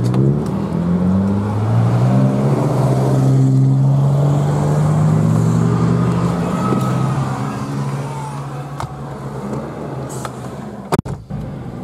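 A car engine running and pulling away on a Kharkiv street, a steady close rumble that rises slightly in pitch as it accelerates, with a few brief knocks near the end.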